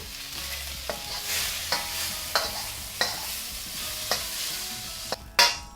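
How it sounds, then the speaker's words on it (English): Bok choy stir-fries in a hot pan for a Hong Kong–style beef chow mein, a steady sizzle broken by regular sharp scrapes and tosses of a utensil, ending in one louder clatter, with no talking. "Throw in my bok choy."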